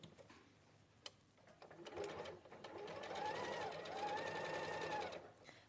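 A sewing machine stitches a run of chain-pieced fabric, its rapid rhythmic whirring building in speed and holding steady for a few seconds, with faint voices in the background.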